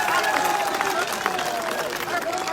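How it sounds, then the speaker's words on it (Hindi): A crowd at a political rally applauds to welcome MP Locket Chatterjee. Steady, dense clapping and crowd noise carry through, with a voice on the loudspeaker over it. "तालियां बजाकर लॉकेट जी का स्वागत करें।"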